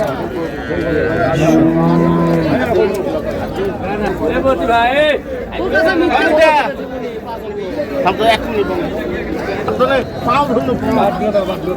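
Dairy cows and calves moo amid lively crowd chatter and overlapping voices at Raniganj cattle market in Dinajpur, the lowing rising now and then above the busy hubbub.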